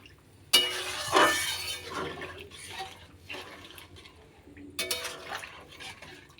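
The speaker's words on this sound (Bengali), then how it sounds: "এবার জলটা দিয়ে দিলাম" Water splashes into a pan of paneer curry with a sudden rush and sizzle, then a gurgling pour that tapers off before a second splash near the end, close by and without talking.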